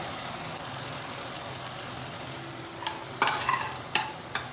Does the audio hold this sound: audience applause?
no